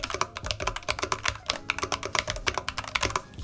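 Steady, fast typing on a MU by Chan TKL wooden mechanical keyboard, with dense clicky keystrokes in an uneven rhythm, close and clear with no talking.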